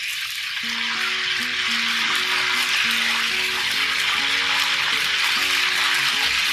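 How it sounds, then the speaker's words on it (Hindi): Chicken pakora pieces frying in hot ghee, a steady loud crackling sizzle that runs throughout with a tonal hum beneath, no voices. "हम फिर जो है ना अपने चिकन इसके अंदर डालेंगे और फिर फ्राई"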